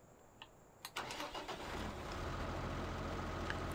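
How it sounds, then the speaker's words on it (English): Tractor engine in Farming Simulator 17 starting up: a couple of starter clicks, then a cranking catch that settles into a steady, close mid-pitched idle rumble. "has more of the generic farm sim tractor noise to it"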